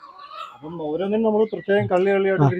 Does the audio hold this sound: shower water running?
no